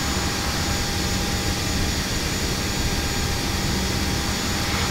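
An AirAsia Airbus A320 in Microsoft Flight Simulator rolls down the runway for takeoff from Surabaya, its jet engines producing a loud, steady, broadband roar that fills the whole stretch without pause.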